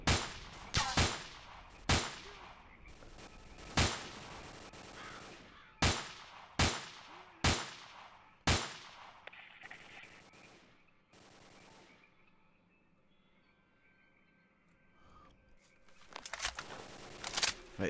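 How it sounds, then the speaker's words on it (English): Gunfire in the PC game S.T.A.L.K.E.R.: Call of Pripyat with the Misery Mod: loud, sharp shots in irregular single cracks and short bursts, with quieter rumbling gaps between them and a final cluster of shots at the end. "are they still shooting at me or are they still shooting at that?"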